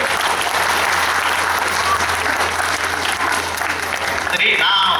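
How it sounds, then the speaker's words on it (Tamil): Loud, sustained applause from an audience at a Pongal 2014 celebration after a children's skit, a thick wash of clapping that fills the whole stretch with crowd murmur underneath. "பலத்த கைதட்டு தட்டலாம்."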